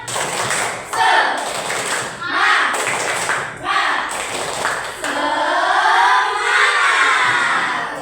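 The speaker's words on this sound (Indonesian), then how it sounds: "Coba kita tepuk semangat dulu." A school class does the tepuk semangat chant, with group clapping in rhythmic bursts alongside children's chanting voices, then a stretch of sustained sung or chanted voices, close and lively.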